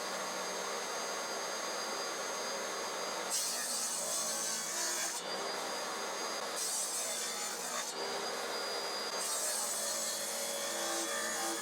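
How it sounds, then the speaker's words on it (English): A table saw cuts dado slots into plywood panels. The blade runs at a steady high-pitched whine, and the tone rises into three or four louder bursts of cutting noise as the panels pass through. "Then I set the table saw fence distance from the blade to 8mm and made a cut in all 4 panels."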